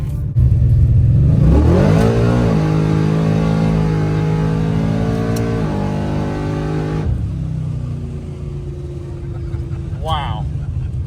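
Race car engine running on E85 with its kit switched on, revving up hard in a rising climb, holding a loud steady high rev, then dropping back to idle with a brief whine near the end.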